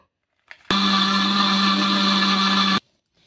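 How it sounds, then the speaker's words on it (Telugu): A mixer grinder whirs steadily as it grinds sugar with cardamom into powder, one loud continuous burst of about two seconds that starts and stops abruptly, with a faint clack before it. "మెత్తగా పౌడర్ లాగా మిక్సీ పట్టేసుకోవాలి"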